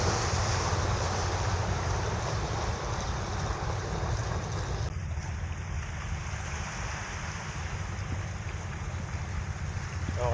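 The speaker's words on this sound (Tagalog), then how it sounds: "Alon lang pala." Continuous wash of water and surf at a Baseco fishing spot, a steady broadband rush with wind buffeting the microphone and no voices.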